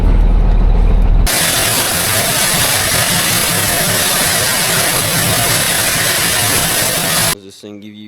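A truck engine idles steadily after being started on a dead battery, a loud continuous broadband rumble with hiss that runs for about six seconds before cutting off abruptly.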